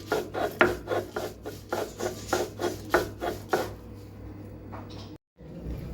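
Green chillies ground by hand on a stone grinding slab (pata) for a chilli pickle, a steady rhythmic rasping scrape repeating about twice a second, close and clear, then easing off into quieter rubbing.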